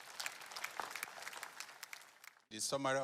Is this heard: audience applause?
yes